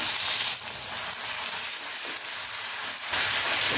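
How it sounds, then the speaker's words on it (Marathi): Cumin seeds and ginger-garlic paste hit hot oil for an egg masala: a bright, hissing sizzle fills the whole stretch, steady and close, swelling louder near the end. "तेल छान गरम झाले की आपल्याला अर्धा चमचा जिरे घालायचे आहे अद्रक लसूण पेस्ट करायचं आहे"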